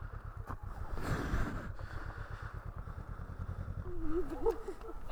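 A motorcycle ridden in Georgia rumbles steadily at low pitch with wind buffeting, rising briefly in revs toward the end.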